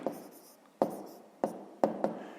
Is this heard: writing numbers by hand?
yes